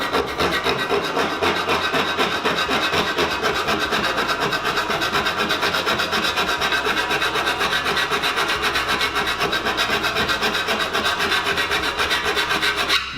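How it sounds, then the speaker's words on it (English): Steady, continuous rasping of a hand file working lip pieces off a 4 mm tray, a dense scraping texture with even rhythm that holds close and loud throughout, with no talking. "We're going to do this using our file and using a bit of the old hand action."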